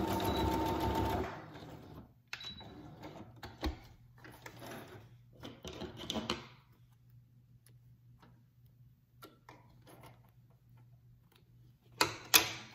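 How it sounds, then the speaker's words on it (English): A sewing machine runs in short bursts while stitching closed the opening of a cloth face mask with string ties, with a clattering, rapid needle rhythm, several brief runs and then quieter pauses broken by faint clicks. "So now I'm just going to sew over that little opening with just stitch it a couple of times just to close that up."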